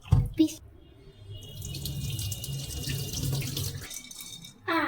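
Lentils for tomato dal rinsed in water, running and splashing steadily for several seconds between louder knocks at the start and end.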